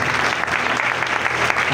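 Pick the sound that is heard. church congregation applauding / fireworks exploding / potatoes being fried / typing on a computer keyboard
church congregation applauding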